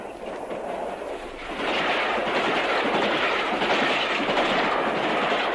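Great Western Railway train on the Bristol to Exeter main line runs through Highbridge station, with a steady rumble that swells louder partway through and continues as a broad, sustained roar on an old archive film soundtrack.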